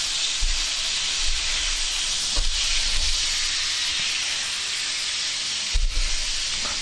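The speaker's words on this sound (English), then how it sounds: "gonna use this and baste the steak like this" A ribeye steak sizzles and spits in a hot pan as it is basted, a steady bright hiss with a few soft clunks of the spoon or pan, no voices.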